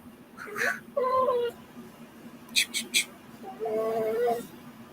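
A house cat gives a few drawn-out meows at close range, interspersed with a person's chatter and a short chirpy sound, over a steady low household hum during an informal live talk at home.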